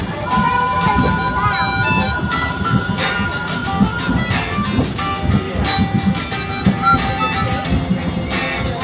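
A train ride at Disney's Animal Kingdom rolls along with a steady rumble and clatter, wheels and cars rattling continuously, with indistinct voices and announcements blending into the noise.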